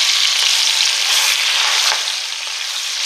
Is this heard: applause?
no